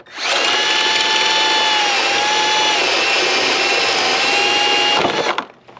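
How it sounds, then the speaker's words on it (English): A power drill with a bit whines at a high, steady pitch, drilling out fasteners while a Vicrez Demon front bumper goes on a widebody Dodge Challenger. The loud, close run lasts about five seconds, then winds down. "I'm going to drill those all out."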